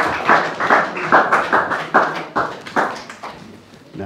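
Applause in a church service, a small group clapping in rhythmic bursts, fairly close and steady, then fading toward the end.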